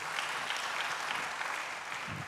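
Church congregation clapping at a sermon's call to applaud, a short burst of moderate, fairly distant applause filling the room.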